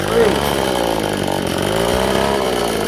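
A small two-stroke weed whacker engine running steadily at a high, buzzing pitch close by, the droning tone holding constant throughout with a voice talking over it.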